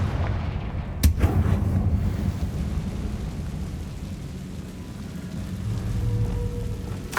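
A Confringo fire spell blasts in the Hogwarts Legacy video game, one sharp explosive crack followed by a long rumbling, crackling roar of game ambience with no voices.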